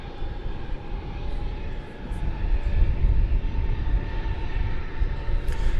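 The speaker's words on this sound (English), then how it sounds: "that 747 is going to come in on the east side" Boeing 747 airliner on approach to land, a rumbling jet roar that swells in the middle and holds, heard from a distance without talk.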